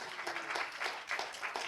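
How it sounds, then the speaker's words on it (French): Faint, brief applause from an audience at a film screening and discussion, a soft steady patter of clapping. "vous pouvez tous les applaudir"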